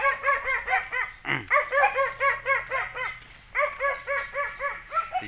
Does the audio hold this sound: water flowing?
no